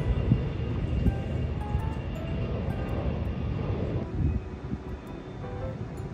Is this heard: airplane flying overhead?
yes